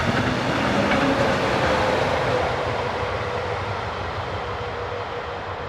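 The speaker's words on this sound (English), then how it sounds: "We begin at Hessenau as Class 143 number 857 heads west with a service from" A Class 143 electric locomotive hauls a westbound passenger service from Halle to Kassel past Hessenau. The train passes close by with a loud, steady, broadband rumble and rush that eases slightly toward the end.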